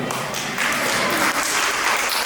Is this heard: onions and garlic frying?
no